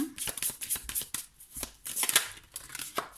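Small oracle cards shuffled quickly by hand, a dense close flutter of crisp slaps and riffles coming in short bursts with brief pauses and no talking.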